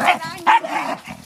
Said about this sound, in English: Yeah, Aiden, take your barking in the f***ing house